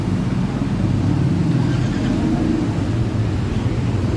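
A Yamaha NMAX scooter with an error 37 fault runs with a steady, loud low engine drone close by, continuous throughout without a distinct start or stop.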